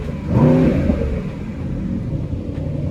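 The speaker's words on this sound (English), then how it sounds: "Let's give it a rev." A 2025 sports car with its exhaust set to Sport Plus gives one short, loud rev that climbs and falls back, then settles into a deep, steady idle burble up close.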